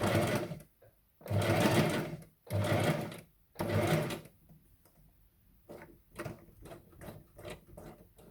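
A home sewing machine runs a straight stitch in loud, close bursts of a second or so, split by short pauses, followed by softer, choppier runs toward the end.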